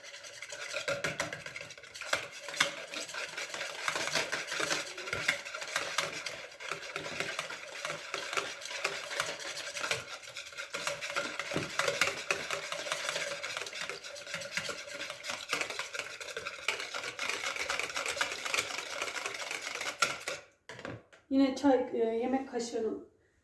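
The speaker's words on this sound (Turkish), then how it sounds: "Bunları iyice karıştırıyorum." A spoon stirs pancake batter mixed with a little sugar in a bowl, a steady scraping swirl running throughout, close and fairly loud, ending with a brief burst of clinks.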